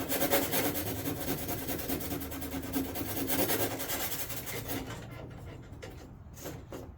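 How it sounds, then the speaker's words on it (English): Hand sanding works down resin build-up on a carbon fiber vented hood of a G35, a close, continuous scratchy rasping that thins into short separate strokes at the end. "I just gotta sand this part where I had some resin build up"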